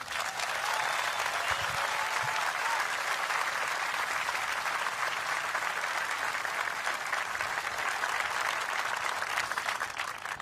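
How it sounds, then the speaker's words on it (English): Audience at an outdoor concert applauding steadily, a continuous, even wash of clapping from a large crowd. "How about one more round of applause?"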